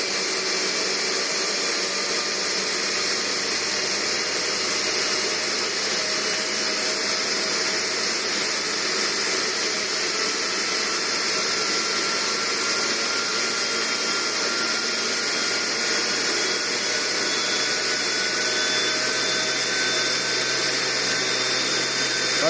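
Axial micro-compressor spinning at 24 volts on a test bench, giving a loud, steady high-pitched whir with a slowly drifting tone and no talk.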